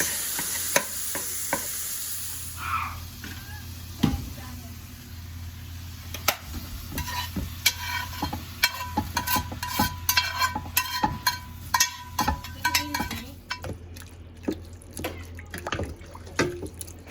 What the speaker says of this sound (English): So I always add butter when I'm frying up my grass-fed beef.